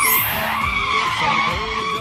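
A car skids to a sudden stop in a loud, sustained tire squeal with a harsh, wavering screech. Low rumbling rises and falls beneath it.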